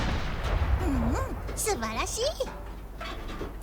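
Anti-tank guns fire in the WWII tank game Panzer Knights, set during Operation Barbarossa, as deep rumbling booms that roll under someone talking throughout.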